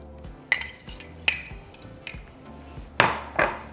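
Butter and boiled potatoes mashed in a pot for adobada tacos, giving a few sharp metallic clinks and knocks of a masher against the pot at irregular intervals, close and fairly quiet, with no talking.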